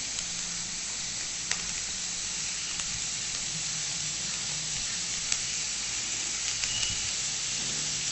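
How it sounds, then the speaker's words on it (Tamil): Spring onion, capsicum, mushroom stems and chili flakes sautéing in a pan, a steady close sizzle and hiss throughout with a few faint clicks of stirring, no voices. "அப்படியே சாட்டே பண்ணணும்"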